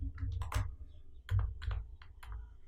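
Bursts of quick keystrokes on a computer keyboard as a placeholder lorem ipsum paragraph is typed, clicking in uneven clusters over a low background hum.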